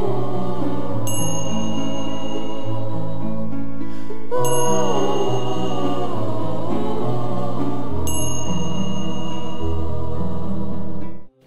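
A notification bell sound effect rings three times at regular intervals, each bright, clear ding sounding over loud, sustained music.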